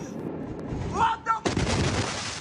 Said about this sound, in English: when the explosion happened. He'd been filming from his window